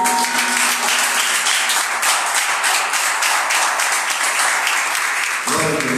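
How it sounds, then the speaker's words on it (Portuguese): A church congregation applauds during a worship service, a dense, sustained wash of clapping that fills about five seconds before fading out as a voice begins. "Uma salva de palmas para o Senhor"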